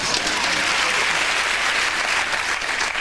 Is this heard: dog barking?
no